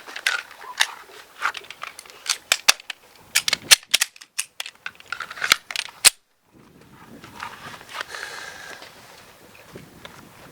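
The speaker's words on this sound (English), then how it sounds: "on the command of fire, we're going to fire 2 rounds" Shots from a Guardian 6 defensive pistol on a firing range, a rapid string of sharp, loud cracks in clustered bursts, then a quieter stretch of shuffling and handling noise.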